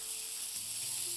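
Grilled meat sizzling in a pan as it is turned for a grilled meat salad, a steady soft hiss with no break and no talking.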